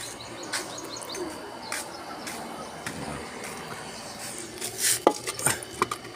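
A cooking pot being washed in a morning kitchen, with sporadic metal clanks and scraping that grow busier and louder near the end, while birds chirp faintly in the background.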